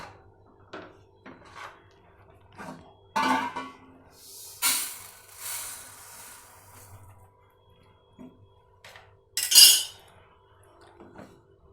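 Roasted sesame seeds being moved from a pan into a dish: scattered scraping and clinking of a utensil against metal, with a few louder rattling pours of seeds in between, close and otherwise quiet.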